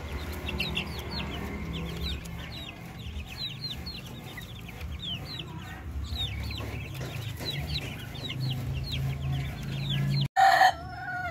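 Darag native chickens cluck busily throughout, with a rooster crowing now and then, on a farm. The calls are close and overlapping, with a brief louder squawk near the end.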